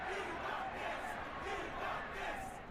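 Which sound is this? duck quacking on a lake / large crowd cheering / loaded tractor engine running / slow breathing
large crowd cheering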